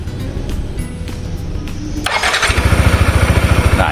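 A Yamaha Nmax scooter engine starts abruptly, catching with a burst and settling into a steady, loud, close idle with an even pulsing rhythm.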